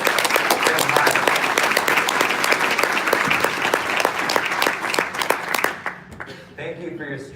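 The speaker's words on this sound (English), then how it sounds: "Another round of applause" A crowd at a healthcare leadership conference in Ellicott City, Maryland gives sustained, dense applause that fills the room, then fades near the end as a voice begins speaking.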